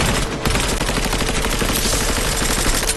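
Loud, rapid automatic gunfire from the video game Cyberpunk 2077, dense overlapping shots firing almost continuously, close and harsh.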